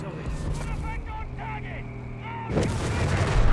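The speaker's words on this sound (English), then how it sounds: "Mortar under fire from the locked infantry Geschütz." Artillery and mortar fire rumble in Company of Heroes 3, an Afrika Korps versus US Forces match, with heavy booms and low battlefield noise under a commentator's voice, swelling into a louder blast near the end.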